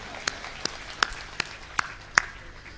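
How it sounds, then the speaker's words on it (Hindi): Slow, sparse claps ring out at a Hindi comic poetry gathering, a kavi sammelan. They come as single sharp hand claps at a steady, unhurried pace, close and distinct over a faint room hum. "इस बात के लिए पूरा सदन एक बार जोरदार तालियां बजाए"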